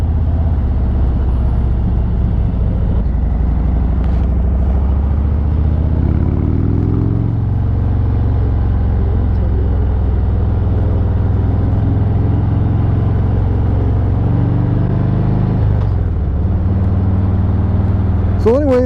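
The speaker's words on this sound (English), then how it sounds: "All this traffic, man, is irritating." Road traffic around a Harley Road Glide motorcycle on the move, with a deep steady engine rumble, shifting pitch as the bike changes speed, and passing vehicles mixed in. Someone talks over the noise.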